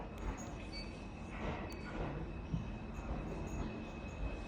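A New York subway D train bound for Jamaica–179th Street running via the F line, with a steady loud rumble of wheels and car noise, faint squeals and rattles throughout.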